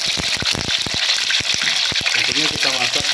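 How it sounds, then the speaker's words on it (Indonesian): Tofu sizzling as it fries in hot vegetable oil, a steady broadband crackle and hiss running continuously, with a person's voice talking over the frying throughout. "Untuk tahap awal kita goreng yaitu tahu."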